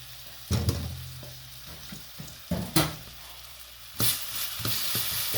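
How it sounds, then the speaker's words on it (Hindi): Chicken sautés in a pan over high heat, loud sizzling and frying broken by repeated scraping stir strokes that make sharp bursts every second or so. "अब मैं इसे थोड़ी सी तेज़ आंच पे सौते करती हूँ"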